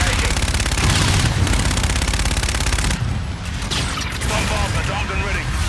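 Call of Duty: Infinite Warfare gunfire, a loud, continuous stream of rapid automatic shots with dense battle noise, briefly easing midway before resuming, with a voice speaking over the shooting.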